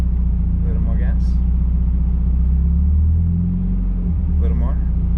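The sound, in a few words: Mazda Miata engine revving as driver gives gas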